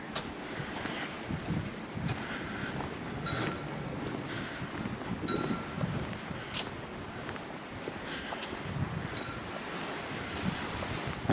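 Gentle waves lapping and a steady breeze buffeting the microphone on a calm, sunny January day at the seafront of Portals Nous, Mallorca, continuous and close with no talk.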